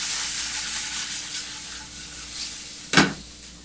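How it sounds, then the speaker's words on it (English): Sausages sizzle steadily in a hot pan for a vegan breakfast burrito, a constant frying hiss close up, with a single loud scrape of a utensil stirring them near the end. "Stir my sausages again because they're pretty toasty."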